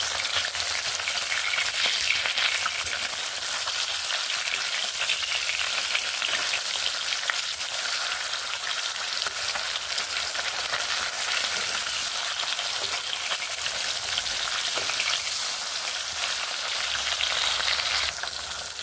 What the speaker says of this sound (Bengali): মাছগুলোকে আমি ভেজে নেব